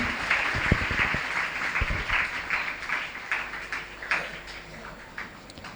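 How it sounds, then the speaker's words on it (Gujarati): An audience at a school book launch applauds again, a full burst of many hands that grows patchier and gradually thins toward the end. "એક વખત ફરી જોરદાર તાળીઓથી આપણે વધાવીએ સન્માનને"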